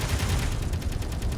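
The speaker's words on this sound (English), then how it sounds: "It's still firing at us." Rapid gunfire from spaceship turrets in a video game, a dense continuous volley of booming shots that fills the whole short stretch with no talk over it.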